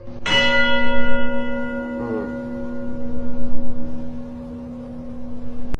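Bells chime in a single loud struck tone that rings on with a long, steady humming sustain, followed by a fainter second strike partway through, with nothing else heard.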